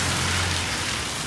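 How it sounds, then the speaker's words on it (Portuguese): Heavy rain in Paraíba, Brazil, pours down in a dense, constant roar, loud and close with no pauses. "Muita chuva."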